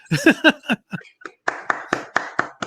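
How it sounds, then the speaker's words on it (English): A slow clap on a podcast interview show: a few seconds of distinct, evenly spaced hand claps close to the microphone, following a brief burst of talk at the start. "That's right. Slow clap."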